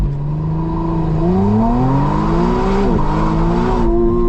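A 2025 McLaren Artura Spider launches hard from a standstill, its engine rising in pitch through a gear, briefly dipping at a shift and climbing again, loud and close from the cabin with a constant roar beneath.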